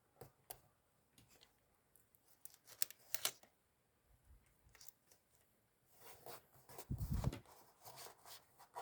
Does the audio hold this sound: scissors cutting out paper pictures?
yes